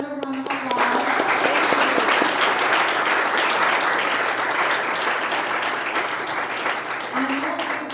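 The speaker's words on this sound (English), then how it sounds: "So let's give them another round of applause." An audience applauds panel guests at a film industry talk, a loud, dense burst of clapping that lasts several seconds, with brief speech at the start and end.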